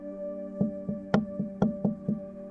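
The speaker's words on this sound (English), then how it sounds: "she heard a knock on her window." Sharp knocks on glass, about seven quick raps in an uneven rhythm, close and clear over a faint steady hum.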